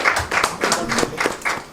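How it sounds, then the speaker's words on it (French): A short burst of audience applause at a press conference, several pairs of hands clapping in uneven rhythm, fairly close and loud for under two seconds. "Il faut les applaudir pour ce combat aussi."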